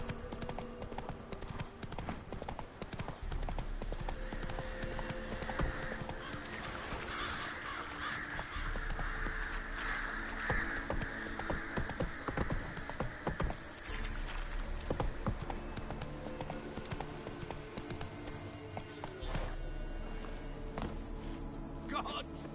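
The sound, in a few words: Roach the horse galloping, from the video game The Witcher 3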